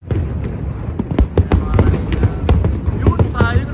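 Chinese New Year fireworks go off in a rapid series of sharp, loud cracks and bangs over a constant rumble, while people talk nearby.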